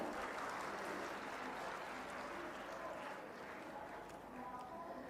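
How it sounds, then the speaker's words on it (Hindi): Audience applause fills a public stage event at Gorakhpur Mahotsav, a dense, steady wash of many hands clapping throughout at moderate loudness, with no speech over it. "एक बार आप सभी जोरदार तालियां मंच तक पहुंचाएं"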